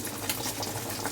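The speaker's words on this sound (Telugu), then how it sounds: "పులుసు మరుగుతుంది కదా ఫ్రెండ్స్" Seer fish curry stew simmers at a boil in a pot, a dense continuous bubbling hiss with soft pops, heard close and steady over a short moment.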